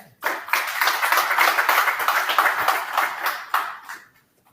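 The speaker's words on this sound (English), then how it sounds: "So please, warm round of applause for our panel." A conference audience at a blockchain and industry summit claps for a panel, a dense burst of hand clapping that starts abruptly, holds steady and fades out near the end.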